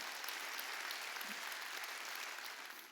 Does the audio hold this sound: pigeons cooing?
no